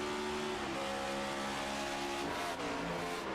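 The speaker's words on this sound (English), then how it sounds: "Is it my imagination or did I hear that car shift?" Race car at Homestead-Miami during a race, its engine droning steadily and loudly with pitch shifts as it changes gears, no talk over it.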